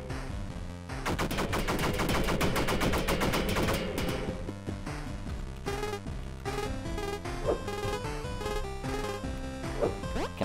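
Gunshots in the DLC Quest video game: a quick run of sharp, evenly spaced shots over loud, steady game music, with no one talking.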